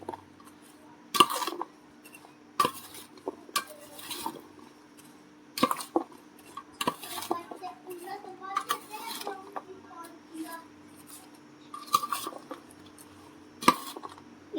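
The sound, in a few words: mixing mango pickle ingredients in a bowl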